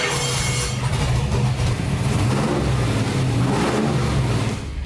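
A Chevy 305 small-block V8 runs on a dyno, a loud, steady idle with a rough, lumpy rumble that swells slightly, close and continuous with no talk.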